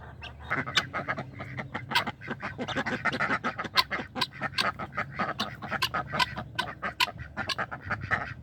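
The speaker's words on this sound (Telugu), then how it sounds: "ఇదేమో ఇండియన్ రన్నర్ అండి మన తెల్లయేమో పెకింగ్ జాతి" Indian Runner and white Pekin ducks quack in a rapid, overlapping chorus close by, loud and continuous with no talking.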